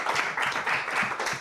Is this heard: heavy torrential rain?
no